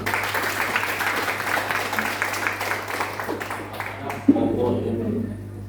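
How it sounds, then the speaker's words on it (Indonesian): Students at a high school leadership training session clap, a moderate, somewhat muffled round of applause lasting several seconds with a low steady hum beneath it. "tepuk tangan"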